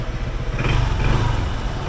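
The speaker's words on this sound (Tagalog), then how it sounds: "Pinainit ko lang din yung motor." A motorcycle engine idles while warming up, a close, steady low rumble with slight rhythmic pulsing that runs for a couple of seconds without any talking.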